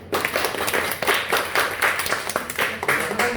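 A crowd claps together in a dense, steady burst of applause, loud and close, lasting a few seconds without any talking.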